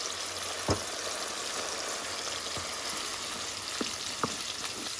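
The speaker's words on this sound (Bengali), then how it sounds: "এখন এগুলোকে কষিয়ে নিব আমি 5 থেকে 6 মিনিট" Spices, onion and garlic fry steadily in a pan, a constant close hiss with a few soft stirring clicks scattered through it.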